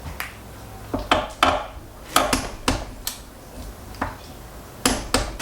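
A wrench tightens a diesel injector on a 1983 Mercedes 300TD with an OM617 engine, giving a series of sharp, irregular metallic clicks and taps, close by, over a quiet background.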